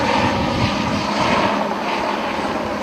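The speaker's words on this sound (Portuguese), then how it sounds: "O helicóptero da PM ajudou nas buscas." A police helicopter flies overhead with a loud, constant rotor and engine roar that fills the whole stretch without pause.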